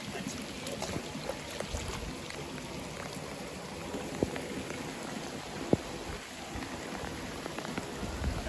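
Rain falls steadily during a fishing outing, a soft, even patter on surfaces broken by a few sharp isolated drips or knocks, with no talking.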